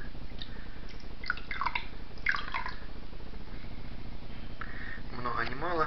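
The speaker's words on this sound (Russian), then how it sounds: "вот такая вот жижа у нас получилась, и теперь мы ее заливаем сюда" Thick non-Newtonian slime pours and drips into a toilet with soft wet splats and trickles at close range, over a steady background hum and brief vocal sounds.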